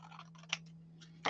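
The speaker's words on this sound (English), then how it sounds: "I think we may want to trim it just a tiny bit more from the bottom" Scissors trimming a small amount off the bottom edge of a paper piece on an altered envelope make a few quick, faint snips and clicks, close by, with no talking.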